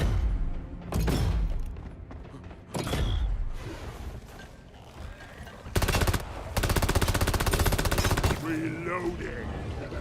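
Heavy automatic gunfire from the video game Rogue Core, loud and near, coming in several bursts, with one long sustained rattling burst toward the end and shorter volleys and booms before it.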